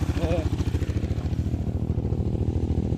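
An off-road motorcycle engine idles with a steady, rapid low chugging, close and continuous throughout.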